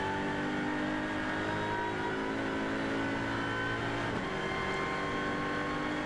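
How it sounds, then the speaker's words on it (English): A WTCR touring race car engine strains up a steep hill climb, a continuous droning roar that wavers and labours through gear changes, with no one speaking. "You can hear on the gear changes the engine will labour as they're going up here with the gradient"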